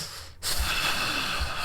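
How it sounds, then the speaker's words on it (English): One heavy breath pushed straight into a close microphone: a loud, rushing exhale with a snort-like edge that stays steady to the end, with no talking. "Sorry for the loud ASMR breathing"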